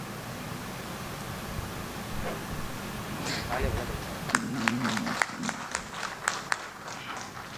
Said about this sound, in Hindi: जोरदार तालियों के साथ आप अरीशा का भी स्वागत करें और सद्दीक साहब का भी स्वागत करें।